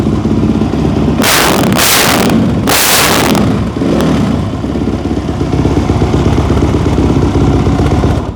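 A Suzuki RMZ-450 factory race motorcycle engine revs loud and close, with several sharp full-throttle bursts in the first few seconds, then a rough, steady idle-like rumble to the end.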